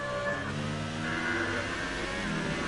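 A race car engine roars steadily at high revs in a racing video game, with a league round set in Japan, tone shifting slightly as it heads into a braking zone; loud and continuous throughout.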